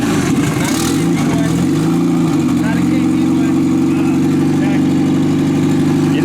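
A boosted Honda CRX engine idles on E85 fuel, a steady, close, low rumble that holds even and unbroken throughout, with faint voices in the background.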